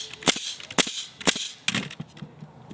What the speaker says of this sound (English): Let's just start by nailing some joists together.